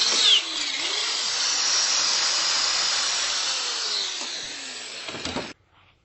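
A power drill bores holes into steel for ham radio antenna tower supports, a loud, steady high-pitched grinding whine lasting about five seconds before cutting off abruptly, with no talk.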